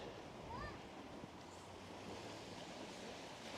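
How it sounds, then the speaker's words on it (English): Irish Sea waves at Blackpool wash in a faint, steady surf hiss mixed with wind noise on the microphone, a distant bird call briefly rising above it. "We've got the sea, the Irish Sea."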